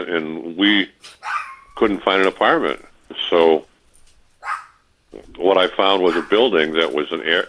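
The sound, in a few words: dog barking in the background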